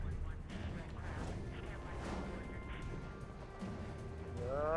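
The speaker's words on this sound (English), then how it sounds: "don't look at explosions." Explosions and gunfire crashing through combat in the open-world action video game Prototype 2, with a steady roar of battle noise, scattered bursts and impacts, and a rising whoosh near the end.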